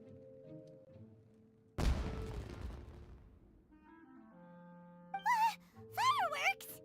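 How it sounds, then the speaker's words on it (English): A single loud, close blast of a firework or explosion in the video game Genshin Impact, set in Inazuma, bursts out over soft game music and rumbles away over a couple of seconds, followed by short, bright, wavering whistle-like tones. "Was that an explosion? It sounded like fireworks."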